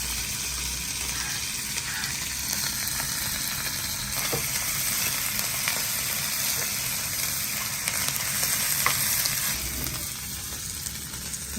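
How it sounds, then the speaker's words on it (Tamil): Dried anchovies fry in hot oil, giving a dense, continuous sizzle like steady rain with scattered crackles, close and fairly even throughout. "வாங்க அங்கே எண்ணெய்க்கில் போடுவோம். நல்லா ஒட்ட புளிஞ்சு எடுத்து போடுங்க."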